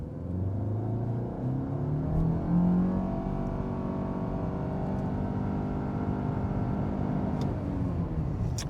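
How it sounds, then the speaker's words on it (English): A 2025 Nissan Altima 2.5SV AWD with a CVT in sport mode accelerating hard from a standstill, its engine drone swelling and holding a steady rising pitch, heard from inside the cabin with no talking. "So let's go ahead and see what we can get 0 to 60 wise."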